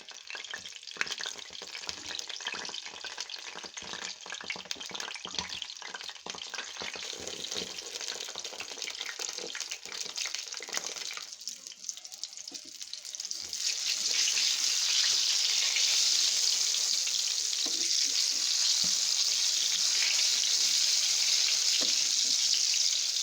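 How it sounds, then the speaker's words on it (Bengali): Eggplant slices fry in hot oil with a continuous crackling sizzle. The sizzle stays even at first, then swells into a louder, bright hiss about halfway through. No one speaks. "তেল গরম হয়ে গেছে। এখন আমি বেগুনগুলো দিয়ে দিচ্ছি।"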